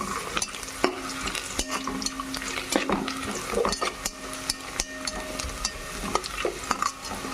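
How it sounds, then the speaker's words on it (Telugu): Cashew nuts frying in a pan for gongura rice, a steady close sizzle with a spoon stirring and scraping at irregular intervals. "కొంచెం వాటిని కూడా ఫ్రై చేసుకుందాం బాగా."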